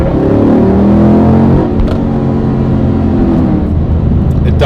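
An HSV VF Maloo R8 ute engine revs up hard from inside the cabin, a loud rising roar with deep rumbling tones that climbs steadily, with no talking.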